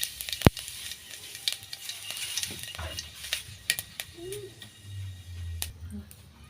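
Panch phoron (Bengali five-spice) crackles in hot oil in a kadai, a bright hissing sizzle with scattered sharp pops and spoon clicks, moderately close, with no talking.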